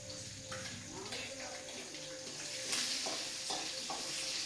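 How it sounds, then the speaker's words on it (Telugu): Chopped onions tossed into hot oil with curry leaves for a spicy chicken curry, giving a steady close sizzle with stirring scrapes, while a voice talks over it. "ఉల్లిగడ్డ అయితే వేస్తున్నా."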